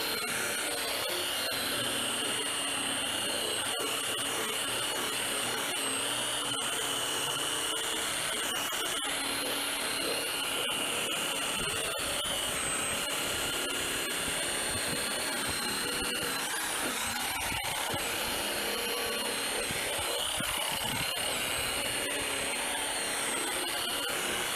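A car polisher buffs scratches out of automotive paint, a steady whirring machine drone with shifting rubbing and friction tones running continuously, close and fairly loud, with no voices.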